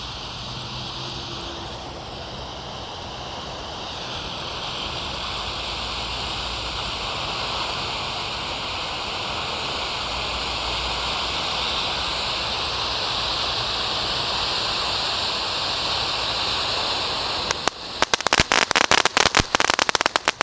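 A large conic firework fountain burning after lighting gives a continuous loud, steady hissing roar for about seventeen seconds, ending in a flurry of rapid sharp crackles and pops.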